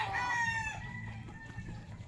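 Domestic chickens, including hens sitting on eggs, make a brief nearby cackling call that trails off, followed by soft low clucks in a quiet farmyard.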